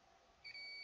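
Multimeter in continuity mode beeping on a water-damaged iPhone logic board with a shorted main power rail, a steady high-pitched tone starting midway and holding, clear over a quiet bench.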